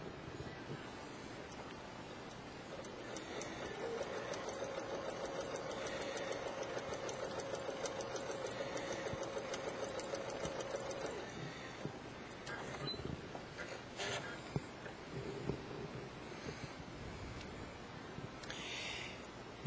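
A sewing machine stitches a flat felled seam in fabric, a faint, steady mechanical whir running for several seconds before tapering into quieter handling noises, with no speech.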